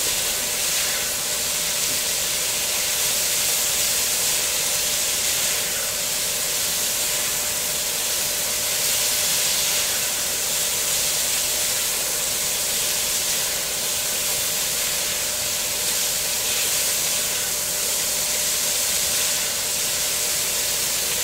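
Chicken stir-frying in a wok gives a steady, loud, broadband sizzling hiss that runs unbroken throughout, close up, with no talk.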